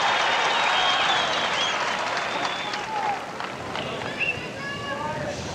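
A tennis crowd of about 11,000 at a 1985 Stratton Mountain semi-final applauding, a broad wash of clapping that fades slightly, with scattered cheers and a commentator talking over it.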